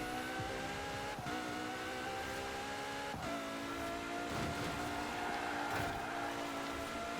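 A 2018 Ferrari Portofino engine drones steadily while driving in Forza Horizon 4, shifting pitch with gear changes and revs, sustained and fairly close, with no talk.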